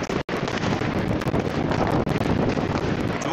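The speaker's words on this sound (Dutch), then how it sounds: "Het waait wel hard, jongens." Strong wind buffets the microphone outdoors during New Year's celebrations, a loud, continuous roaring rush broken by two brief dropouts, with no one speaking over it.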